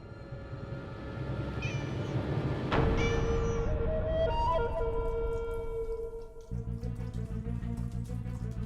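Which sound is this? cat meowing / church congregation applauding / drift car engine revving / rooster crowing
cat meowing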